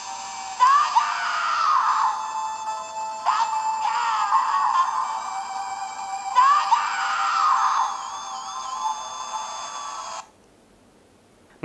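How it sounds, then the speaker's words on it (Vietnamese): A Digimon Adventure Digivice toy plays a shrill, electronic screaming cry through a small speaker, in three loud, buzzy bursts with warbling tones near the end, then cuts off abruptly into near silence. "Megumon không có tiến hóa mà chỉ có gào thét trong đau đớn"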